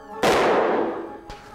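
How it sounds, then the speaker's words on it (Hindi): A single sharp revolver shot cracks loudly and rings out in a decaying echo, followed by a faint second impact. "रिवॉल्वर की आवाज है।"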